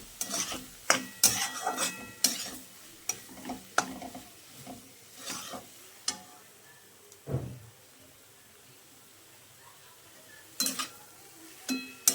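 Fruit for murabba being stirred and sautéed in a pan, with a spoon scraping and clacking in irregular bursts and faint sizzling between strokes, close and alone, with long quieter gaps.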